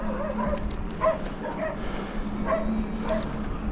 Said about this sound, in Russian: Собакин гавкает.